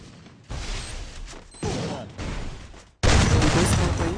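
Bursts of rapid Free Fire game gunfire erupt in several loud volleys separated by brief pauses, the last burst the loudest.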